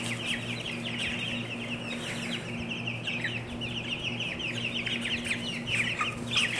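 Several Cornish Cross and Australorp chickens cluck and chatter continuously nearby, soft repeated clucks overlapping over a low steady hum.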